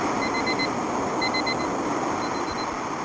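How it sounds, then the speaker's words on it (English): An electronic device beeps in sets of four evenly spaced tones, three sets in all with a short gap between each, over a steady background hiss and hum. "You ready for this beeping? It's gonna beep."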